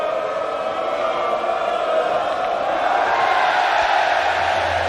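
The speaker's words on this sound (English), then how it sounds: "this sounds good for Europe, this cheer" Crowd cheering and whooping at the Mosconi Cup pool tournament in 2023, a steady broad roar from a large audience that holds at a constant loud level and swells slightly toward the end.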